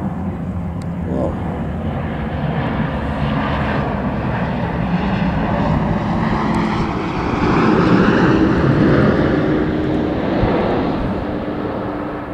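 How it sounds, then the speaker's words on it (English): A Gulfstream business jet flies a tight turn low over a back garden in Cambridge, UK, its loud, sustained engine roar swelling as it passes close overhead and then holding steady. "I've never seen the business jet do such a tight turn like that across my back garden."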